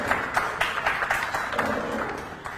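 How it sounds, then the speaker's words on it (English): Scattered, light applause from a small audience at a live Budget 2023 discussion session, individual claps audible and uneven, fairly faint and thin rather than a full ovation. "can we have a round of applause for Sonal and for Pranjal Kamra?"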